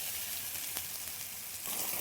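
Cooked dal poured into a hot tarka, setting off a steady, hissing sizzle that stays level throughout, close and continuous with no talking.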